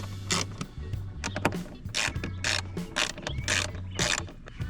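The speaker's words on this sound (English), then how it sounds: "and tighten those screws back down in there." A socket ratchet tightens the air filter box screws on a 2019–2023 Jeep Renegade with a 1.3 L engine, producing close, rapid clicking bursts in repeated back-and-forth strokes with short gaps between them.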